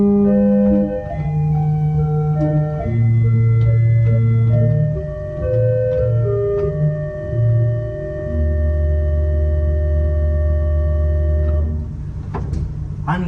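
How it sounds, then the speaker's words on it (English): Church pipe organ playing an 8-foot gedackt flute stop, soft, pure sustained notes moving through a slow melody with held low tones, alone and without talk. "Next we have a flute. It is an 8-foot gedakt,"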